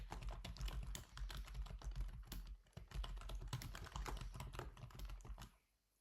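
Rapid keystrokes on a computer keyboard clatter in a steady close run for several seconds, then stop.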